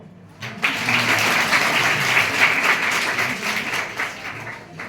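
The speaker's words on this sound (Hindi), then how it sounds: "ताली बजाओ।" After a short quiet lead-in, an audience at a cybercrime awareness talk breaks into loud, even applause that carries on for several seconds before tapering slightly.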